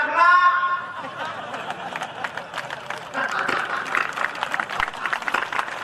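An audience at a Hindi comic poetry recital claps after a brief voice. Scattered claps soon thicken into sustained applause that carries to the end.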